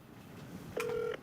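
Telephone touch tones as a number is dialed, a short clean beep sequence lasting under half a second, close and clear over a quiet room.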